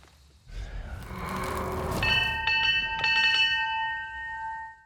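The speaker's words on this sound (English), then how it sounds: "Ringing bells." Bells ringing in the video game Hunt: Showdown, a clanging strike about two seconds in followed by further bright strikes, with sustained metallic tones ringing out loudly and alone.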